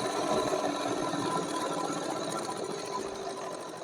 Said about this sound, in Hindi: आधा इंच का गैप करते हुए इस तरीके से पूरे में सिलाई लगा देंगे।